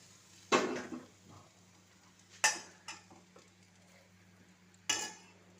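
A spoon stirring a mustard-seed tempering into a cooked drumstick-leaf dish, with three sharp scraping clinks of metal against the pot spaced a couple of seconds apart over a quiet background hum.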